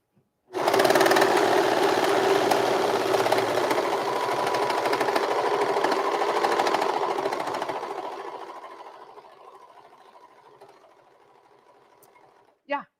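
A serger sewing machine stitches the seams of an old-fashioned apron, running as a loud, steady whir for about seven seconds before it slows and fades away.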